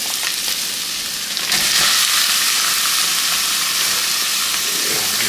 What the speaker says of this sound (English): Now we're gonna add our meat.